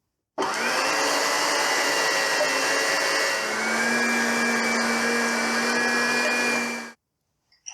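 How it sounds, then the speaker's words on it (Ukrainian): An electric meat grinder mincing trimmed meat scraps into ground meat runs as a steady, loud motorised whine and hum for about six and a half seconds, its pitch dropping slightly partway through, then cuts off. "Обрізані шматочки м'яса перемелюю у фарш"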